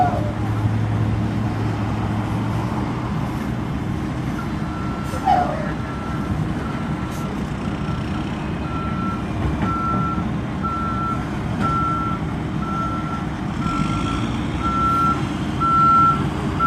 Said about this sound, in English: looks like a few other fire trucks are arriving.